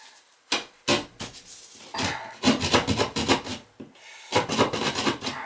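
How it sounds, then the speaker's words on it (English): Someone cutting open a wall to reach a faulty drain, with harsh rasping, sawing strokes in uneven bursts and short gaps, close and fairly loud. "I gotta open this wall up, and then I gotta cut the other wall too."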